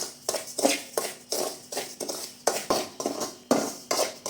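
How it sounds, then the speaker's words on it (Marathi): Semolina roasting in ghee is stirred in a pan, giving a close, regular scrape-and-clatter of the spoon against the metal about twice a second. "चांगलं लालसर आपल्याला भाजून घ्यायचं आहे तुपामध्ये रवा।"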